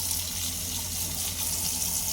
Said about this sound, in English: Again, you've got some hot water coming through